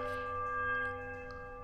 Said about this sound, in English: The peculiar chime rings through the ruins.